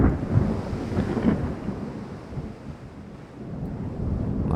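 A thunderstorm with rain in a naval battle video game sends a deep rolling rumble that swells and fades and then builds again under a constant hiss of rain and wind.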